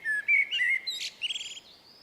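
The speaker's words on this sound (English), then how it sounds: "let's hear how to memorise the sound of a robin" European robin song, a series of high, thin, warbling phrases and trills that rise and fall over a couple of seconds, close and clear with no other sounds.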